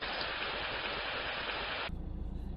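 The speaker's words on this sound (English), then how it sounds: "the rain will just fall on another part of the patio" Steady, dense rain patters across a patio, a loud even hiss that shifts abruptly near the end to a softer, lower wash of falling water, with no voices.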